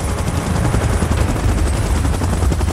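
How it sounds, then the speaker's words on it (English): A helicopter in the PUBG Mobile game gives a loud, rapid rotor chop, dense and rumbling throughout, like continuous gunfire with no pauses. "Chopper in position."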